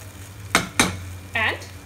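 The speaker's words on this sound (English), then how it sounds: "add the fried paneer or fried cottage cheese. Mix it very gently" Fried paneer cubes being gently folded into a cottage cheese curry, giving two soft scraping knocks of a spoon against the pot over a steady background hum, then a short higher scrape, all close and quiet with no talk.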